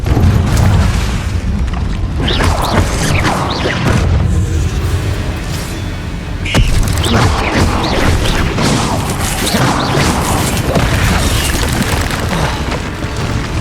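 Confringo fire spell blasts in Hogwarts Legacy, a dense run of loud booming explosions and crashing impacts layered over game music, with heavy hits repeating throughout.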